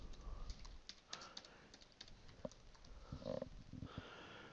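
Keys tapped on a computer keyboard while typing a plugin name: a short, quiet burst of light clicks, then a few louder key presses near the end, close up with no talking.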